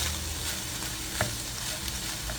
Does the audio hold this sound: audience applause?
no